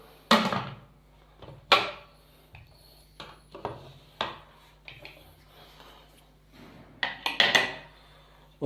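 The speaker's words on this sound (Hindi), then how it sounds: "मिक्स करने के बाद अब हम कुकर का ढक्कन लगा देंगे।" Pressure cooker lid being fitted onto the pot: a series of sharp metallic clanks and scrapes at irregular intervals, close and fairly loud, with quiet gaps between.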